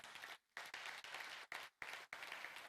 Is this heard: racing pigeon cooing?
no